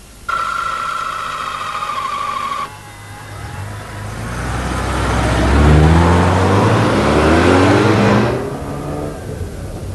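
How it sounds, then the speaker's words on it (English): A 1985 Mazda RX-7's rotary engine climbs from a steady idle into a smooth, rising rev that swells loud and high before easing off, close by with no talking. "The rotary engine revs extremely freely and has quite a nice sporting exhaust note."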